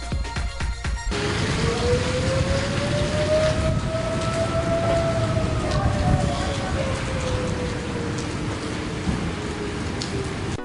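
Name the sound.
tornado sirens during storm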